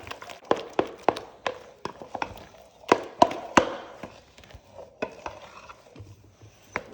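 Thick choux pastry dough being stirred after an egg is beaten in, heard as a series of close, wet slaps and knocks in an irregular rhythm, quieter toward the end, with no voices.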